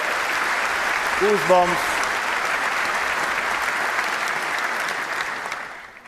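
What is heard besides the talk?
audience applause at the Kennedy Center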